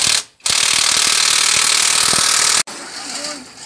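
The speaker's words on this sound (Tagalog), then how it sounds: "Nahigpitan na lahat ng higpitan, sprocket, cambio, mga tornilyo sa chassis, tambucho, carburetor" A ratchet tightening the screws on a motorcycle, a loud, fast rapid clicking of the pawl running for about two seconds after a short gap, then stopping abruptly as quieter background noise takes over.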